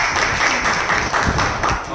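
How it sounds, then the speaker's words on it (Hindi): Audience applauding at a motivational talk, a dense, loud wash of clapping from many hands held steadily throughout. "एक बार उनके सम्मान में शानदार ताली हो।"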